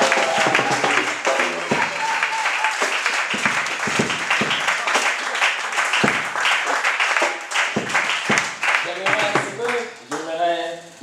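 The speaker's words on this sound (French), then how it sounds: "Est-ce qu'on peut acclamer?" Warm applause from a church congregation, steady clapping throughout with a crowd murmur and speech carrying over it, fading slightly near the end.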